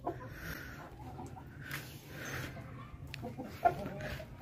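Kandhari Aseel chickens cluck softly and continuously in a farm pen, with a low steady background hum and one brief sharper call near the end.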